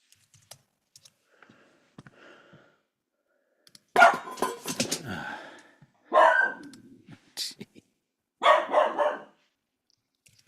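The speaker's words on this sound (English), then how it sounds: "every now and again she hears something and starts barking" A dog barks in three short bursts separated by pauses, fairly close and loud, with faint tapping sounds between them in an otherwise quiet room.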